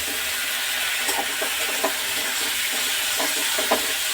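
Spices frying in a pan for a fish-head dish with Malabar spinach give a steady, close, loud hiss with small crackling pops throughout, and no talking.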